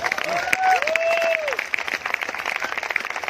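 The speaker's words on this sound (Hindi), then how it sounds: "मैं कदम जी एंड फैमिली को स्टेज पे बुलाना चाहूंगा, जोरदार तालियों के साथ" Audience applause at a stage event as a family is called up to be felicitated, a dense patter of clapping with a voice briefly audible over it.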